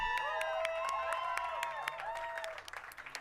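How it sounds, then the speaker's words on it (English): Audience applause at a Hollywood Walk of Fame star ceremony for Daniel Craig, with steady clapping and scattered cheers from an outdoor crowd, fairly distant and fading slightly toward the end. "I thought that gets some applause."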